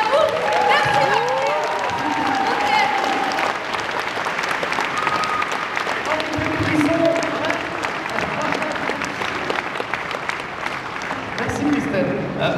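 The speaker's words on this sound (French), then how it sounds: "Et pour ça, j'aimerais qu'on t'applaudisse." Conference audience at Japan Expo Sud 2012 breaks into sustained applause, a dense wash of clapping from a large crowd lasting throughout, with a voice speaking over it into a microphone.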